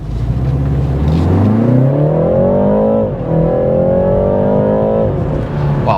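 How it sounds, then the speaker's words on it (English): A BMW 330i accelerates hard from a stop, its engine note climbing steadily through the gears with a brief dip at a shift, loud and close, with no talking over it. "So even if I stop and then do another acceleration."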